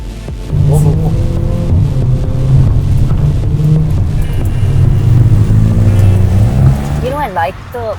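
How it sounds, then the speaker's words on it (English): A tuned VW Polo GT's muted exhaust drones steadily while driving, a low throbbing rumble heard from inside the car, with someone talking over it throughout. "I like the nice muted exhaust sound."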